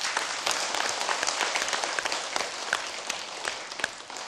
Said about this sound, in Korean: 여러분 박수 한번 치세요